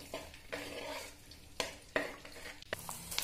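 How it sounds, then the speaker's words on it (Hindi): Edible gum (gond) frying in ghee as a spoon stirs it steadily, with a soft bubbling sizzle beneath repeated scrapes and clinks of the spoon against the pan, up close. "इसको लगातार चलाते जाएंगे गोंद डालने के बाद में, ताकि गोंद जो है घी के अंदर अच्छे से फूल जाए"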